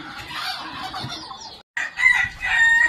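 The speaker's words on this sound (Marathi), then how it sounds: "सकाळची वेळ आहे आणि आपली झालेली आहे कोंबड्या सोडायची वेळ" Hens cluck busily in a wire-fenced poultry shed in the morning, waiting to be let out, with a rooster crowing over the steady flock chatter from close by.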